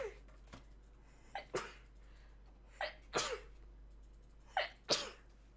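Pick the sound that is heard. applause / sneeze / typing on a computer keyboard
sneeze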